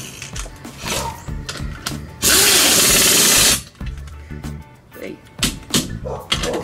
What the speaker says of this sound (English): Let's start putting these lug nuts on.